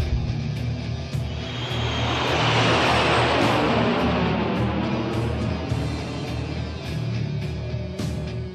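An airship lifts off in a Tales of Xillia cutscene, its loud engines roaring and swelling into a broad propeller drone that peaks mid-way and then holds steady, with no talking over it.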